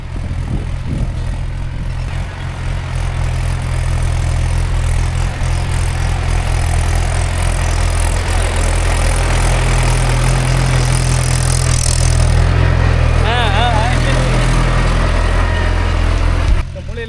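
A tractor pulling a tine plough through a paddy field, its engine a loud, steady low drone running throughout with a slight swell midway, close by; no speech is heard.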